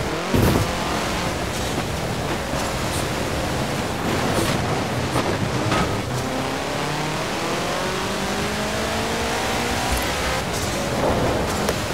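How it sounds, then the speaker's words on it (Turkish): Hovercraft skimming over water in Forza Horizon 4, a steady roaring engine drone with rushing water-like noise throughout, rising and falling slightly in pitch, continuous and fairly loud with no talking. "Hovercraft'a girdik."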